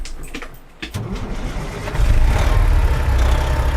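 A car engine turns over and settles into a steady running rumble, loud and close, after a brief burst of mechanical clicks and shuffling, with no voices over it.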